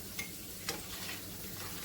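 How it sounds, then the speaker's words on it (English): Sliced carrots seasoned with salt and pepper sautéing over medium-high heat, a quiet steady sizzle with two sharp scrapes of a utensil stirring the pan, no voices. "I'm going to saute them on medium-high heat for 10 minutes"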